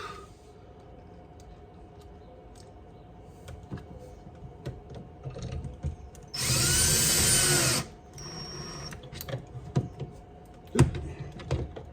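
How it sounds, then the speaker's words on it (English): A power drill drives screws into a Victron 500 amp shunt during a battery bank install, with one loud whirring burst of about a second and a half, then a shorter buzz, surrounded by close clicks and handling clatter. "We just got to get some screws into this shunt."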